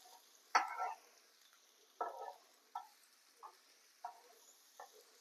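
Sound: stirring broad bean fry with masala powder in a pan

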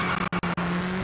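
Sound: rally car engines in a video game

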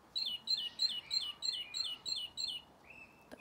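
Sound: great tit song played from a soft toy's recording

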